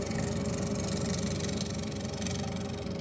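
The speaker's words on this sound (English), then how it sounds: "It is in balance now, which is very good for speeding up the lathe. Here it's at about 900 RPM." A wood lathe spins a balanced maple bowl blank at about 900 RPM, giving a steady, continuous motor hum with a faint vibration and no talking.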